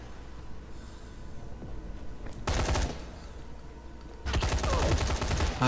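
Bursts of gunfire in the zombie game Dying Light The Following, with two loud broadband volleys, a short one near the middle and a longer sustained one at the end, over a low constant game ambience.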